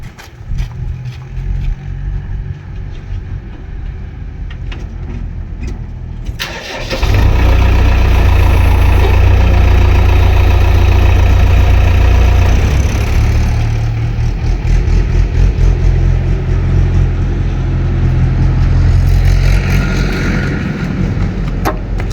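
A JCB backhoe's diesel engine sits at a low murmur, then catches about a third of the way in and settles into a loud, steady, throbbing idle that runs to the end, with no talking.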